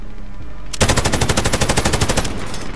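Automatic gunfire from a gun in a video game erupts in a loud, rapid, evenly spaced burst of shots that runs for about two seconds after a brief lead-in, with no talk.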